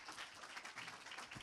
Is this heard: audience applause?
yes